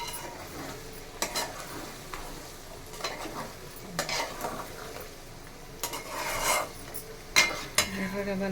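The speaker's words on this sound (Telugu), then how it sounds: "సో కరివేపాకు వేసి కలుపుడు." Chicken pachadi with curry leaves is stirred in a frying pan, a spoon scraping and clinking against the pan in irregular strokes over a soft ongoing sizzle.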